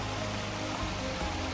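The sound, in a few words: small waterfall on Eureka Creek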